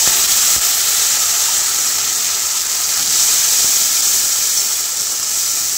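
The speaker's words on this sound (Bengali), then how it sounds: "আমি এখানে আদা রসুন বাটা দিয়ে দেবো" Ginger-garlic paste frying in a pan with browned onions makes a loud, continuous close-up sizzle and hiss that stays steady throughout, with no voices.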